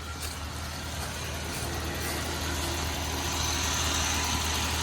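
Dodge Ram 1500 pickup idling roughly with a check-engine light on, a steady low rumble that stays constant and fairly quiet, close by, with no voices.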